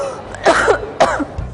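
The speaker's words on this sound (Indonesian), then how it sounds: "Dari tadi aku nggak berhenti batuk, kayak badan aku juga demam." Two harsh, close coughs in quick succession from a person saying they feel feverish, loud and clear with a brief pause between them.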